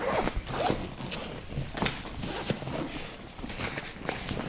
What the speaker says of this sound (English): right here on the side, you have this zipper. This goes all the way around the entire backpack.